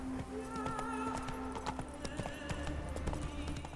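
Hooves of the horse Roach clip-clop steadily in The Witcher 3 in a quick trotting rhythm, mid-distance under a low steady game ambience.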